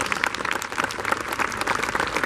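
A crowd applauds at a Veterans Day memorial service, dense, steady clapping from many hands, close and continuous throughout.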